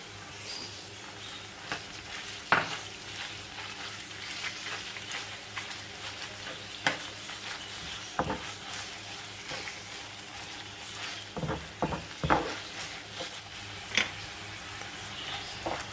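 Quiet, steady sizzling of minced chicken frying in a pan over lightly browned onions, with occasional sharp clicks and scrapes of stirring over the continuous hiss.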